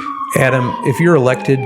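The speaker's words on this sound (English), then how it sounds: "you guys can hear the sirens in the background." An emergency siren wails steadily outside an office on Fifth Avenue, clearly audible under a man's close, loud speech.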